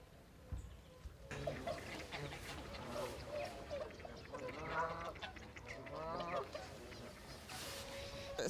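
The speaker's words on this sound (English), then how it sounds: "The geese have been coming to this area." Geese honk in a river area, a flock's repeated nasal calls overlapping at moderate distance under a steady outdoor background, fairly faint throughout.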